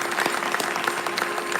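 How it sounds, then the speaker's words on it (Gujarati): Continuous applause from a crowd at a Jain Paryushan devotional gathering, steady and fairly loud throughout, with individual claps standing out against the wash. "એકવાર એમના માટે જોરદાર તાળી."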